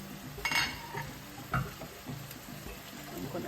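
A spoon stirs food that is cooking in a pan, making a few scraping, clattering strokes over a quiet sizzle. The sounds are close and fairly soft, and nobody speaks.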